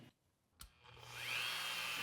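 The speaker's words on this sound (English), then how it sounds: "I started by drilling a small hole at the bottom of each shell" A small power drill bores into a seashell, starting with a sharp tap and then rising into a steady whining grind that builds and holds close up.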